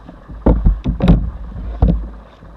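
A kayak paddle, split in half, dips and strokes through water at a narrow entrance on a trail outing, a few splashy pulls close by with light wind in the background.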